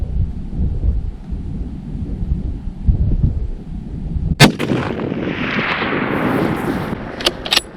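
A single loud rifle shot fired at an elk during a hunt in open country, a sharp crack followed by a long rolling echo, after quiet outdoor ambience.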